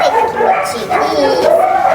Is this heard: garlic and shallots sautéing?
no